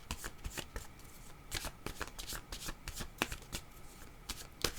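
A deck of tarot cards is shuffled by hand close up, with quick repeated riffling snaps in an even rhythm throughout.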